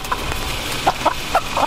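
A few short clucks sound at irregular intervals over a steady low background murmur, fairly close and moderately loud.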